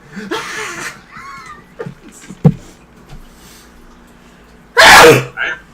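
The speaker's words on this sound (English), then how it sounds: "I'm a scream sneezer." A person lets out a loud screaming sneeze, a sudden harsh burst near the end, preceded by quieter voices, a short vocal squeal and scattered clicks.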